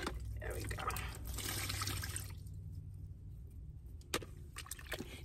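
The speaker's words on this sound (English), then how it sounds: "I wash my face." Water running and splashing at a small sink while someone washes their face inside a minivan at night, a steady wash of splashing that thins into scattered drips, close and fairly quiet.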